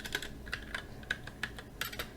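Someone types on a computer keyboard, giving a quick uneven run of close, crisp key clicks with no talking.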